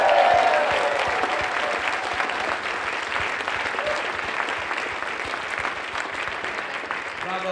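A debate audience applauds loudly and steadily at the close of the Ohio State versus Michigan great debate, a dense continuous wash of clapping that holds its level throughout, with no voices standing out.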